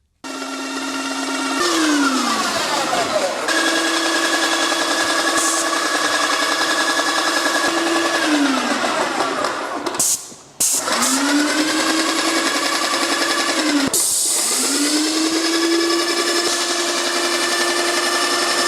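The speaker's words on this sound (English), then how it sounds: "the machine is just priming itself, pushing the paint through." An airless paint sprayer priming as it pushes paint through: a loud, close motor whine that rises and falls in pitch, cuts out sharply for a moment, then restarts and climbs again.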